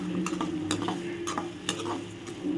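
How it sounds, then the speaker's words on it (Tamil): Small onions, curry leaves and green chillies sauté in a pan for a dried-fish curry, with a soft steady sizzle under repeated scraping stirs and light clinks of a spoon against the pan, close by. "ஸோ இது எல்லாத்தையுமே நல்லா வதக்கி விட்ருவோம்."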